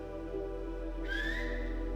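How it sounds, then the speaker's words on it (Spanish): A person whistles using one finger and one hand, producing a single clear, rising tone that starts partway in and holds loud and close over a faint steady background hum. "Ustedes pueden silbar con un dedo y una mano."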